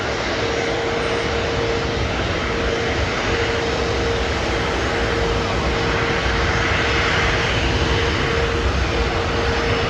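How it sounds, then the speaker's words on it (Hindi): An airplane takes off at Mumbai international airport, a loud, steady broadband jet roar with a faint sustained whine, swelling slightly over about ten seconds with no talking. "ये प्लेन आगे आगे आगे आ रहा है और वो अभी निकली टेक ऑफ के लिए"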